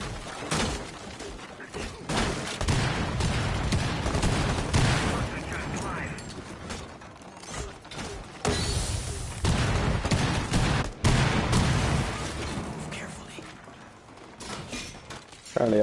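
Rapid bursts of gunfire in the video game Rainbow Six, with broadband crackling volleys running through most of the stretch over a steady game soundscape, while players talk over it.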